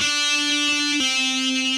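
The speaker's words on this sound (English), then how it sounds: "literally pull on your finger so that some of the meat of your finger is digging into that string a little bit" Heavy metal electric guitar pull-off with the finger catching the string: one held note snaps cleanly down to a lower ringing note, close and alone.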